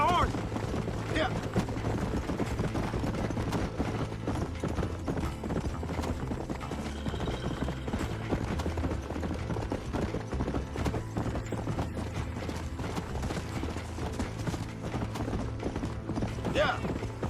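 Horse hooves clip-clop at a steady gallop during a ride in Red Dead Redemption, continuous and moderately loud, with occasional whinnies and mechanical game sounds underneath.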